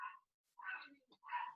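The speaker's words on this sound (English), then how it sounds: "we had a visitor come into the house and he felt the need to just bark" A pet dog barks at a visitor inside a house, giving a few sharp bursts close by with short gaps between them.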